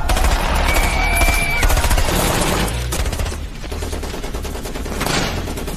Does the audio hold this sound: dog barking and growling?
no